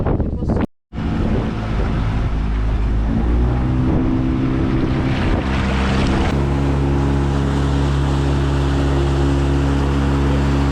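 A boat engine drones steadily with wind buffeting the microphone and water rushing past in cold weather near Skopje, North Macedonia, after a brief dropout near the start.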